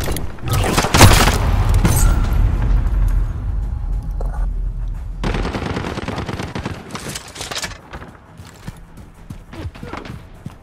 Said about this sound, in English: Got a sentry gun on station.